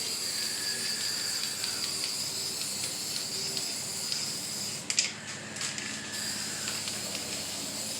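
A spray paint can hisses in a steady, continuous stream, spraying over leaves laid on a Ranger pickup's repaired truck bed outdoors. Its level stays fairly even, with a brief break and rattle partway through.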